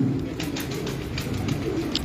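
Breeder pigeons coo softly in a loft setup, faint repeated low coos over a steady background hum, with no voices.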